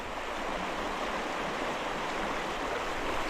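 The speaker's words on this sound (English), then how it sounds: "that's where the water's coming out of the spring, and it is gushing like crazy." Spring water gushes hard from Roubidoux Spring after flooding, a loud, steady roar of rushing water that fills the whole clip, close and continuous with no voices.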